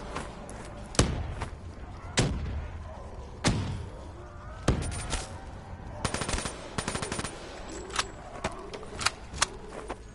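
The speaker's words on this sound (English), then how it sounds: "Let's throw the grenades." Grenade blasts and gunfire in Call of Duty Black Ops 3 Zombies: several loud booming bursts spaced a second or two apart, followed by rapid clusters of sharp shots, with no talking.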